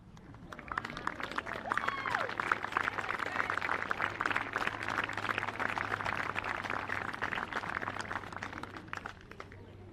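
Audience at a school girls' football tournament final applauds Hillcrest representatives, a soft, fairly distant patter of many hands clapping that swells and holds steady under a low hum, with no voices standing out.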